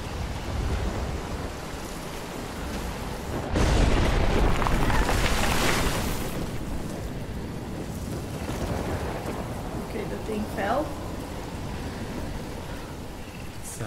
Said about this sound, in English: I've never seen a storm like this in Oregon.